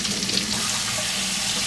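A hand is dipped into a container of freezing cold water during a wax-hand craft. It makes a continuous, close, splashy sloshing wash with no talking over it.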